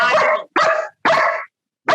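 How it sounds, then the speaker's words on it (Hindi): A dog barks loudly and close by in a rapid series of sharp barks, four in two seconds, with short silent gaps between them. "ये कुत्ता उनका भौंक रहा है"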